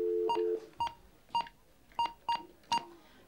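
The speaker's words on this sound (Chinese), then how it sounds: "而家我打电话俾你" A telephone number is dialed during a television game show call to a home viewer, a short run of six distinct touch-tone beeps at an uneven pace after an opening tone, clear and close with no talking.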